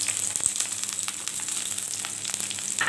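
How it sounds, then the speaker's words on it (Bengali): Chopped onion and garlic frying in oil with cinnamon, cardamom, cloves and bay leaf, a steady close sizzle with small crackles and occasional stirring clicks, no talk. "এখন হালকা করে ভেজে নিব।"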